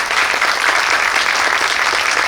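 A theater audience at a special screening gives a big, continuous round of applause for the director's comeback, loud and steady throughout.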